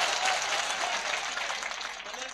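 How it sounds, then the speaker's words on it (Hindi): A crowd at a mushaira breaks into loud, dense applause, a steady wash of clapping that holds evenly and only slightly eases toward the end. "एक बार जोरदार तालियां बजाइए।"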